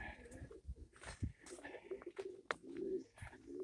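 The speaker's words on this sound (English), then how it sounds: "I have a lot of young birds here. And I have some birds trying to come in." Doves coo softly in a loft full of young birds, with low repeated calls, faint shuffling and scattered chirps at a quiet, close distance.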